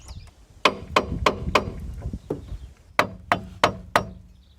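A hammer pounds on a stuck bottom ball joint of a cheap used van, a string of sharp, close metallic blows in two rhythmic bursts of about five strikes each, with short pauses between.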